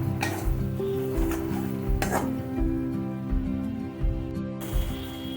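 Water poured into hot oil in a cooking pan gives a steady sizzle with faint stirring and pan clatter, close and continuous without speech.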